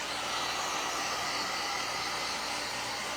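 A hair dryer blows steadily and fairly close on a painted thrifted picture frame during a DIY craft project, a constant even whoosh of airflow with no talking.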